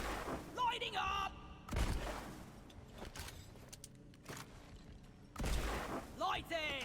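Gunfire from a video game while shooting crates, heard as a few heavy booming bursts that stand out over a steady background of game sound and voice.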